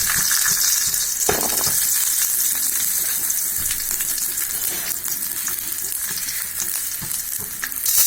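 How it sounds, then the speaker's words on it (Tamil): Chillies and onion frying in oil in a kadai over a low flame, a loud, dense crackling sizzle close up, with occasional spatula stirs and clinks, no speech. "இப்போ மிளகாய் போட்டுடலாம். சிம்மில் வச்சுக்கலாம். வெங்காயம் போட்டுடலாம்."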